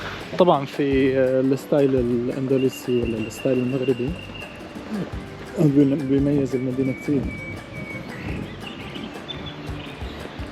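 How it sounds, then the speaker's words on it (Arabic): Doves or pigeons coo in deep, repeated phrases, with lighter bird chirps in the background, in the old city of Fez, Morocco, while a person talks over the birds throughout. "اسمعوا صوت العصافير."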